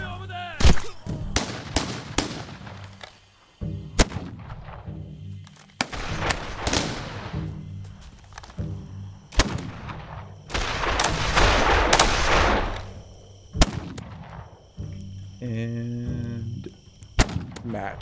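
Video game gunfire in a Land of war-style shooter match: repeated sharp shots and bursts crack out at irregular intervals across the whole stretch, some close and loud, others more distant, with a rumbling swell of heavier fire midway.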